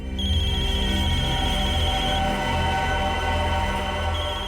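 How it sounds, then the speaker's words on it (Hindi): A mobile phone ringtone playing in a TV crime drama, a loud steady electronic ring with sustained tones lasting several seconds, close and alone without talk. "इसमें तो मोबाइल के रिंगटोन जैसा कुछ बजा है।"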